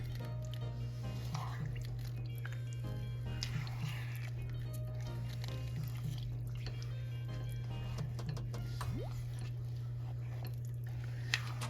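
Soft wet squishing and dripping sounds of liquid being stirred, close and quiet, with a steady low hum underneath.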